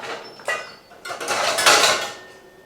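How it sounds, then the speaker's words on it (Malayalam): A metal coffee-making pot is picked up and handled in a home kitchen, giving a few clattering knocks and scrapes that swell and fade over a couple of seconds, with no voices. "കോഫി ഉണ്ടാക്കുന്ന പാത്രം എടുക്കട്ടെ."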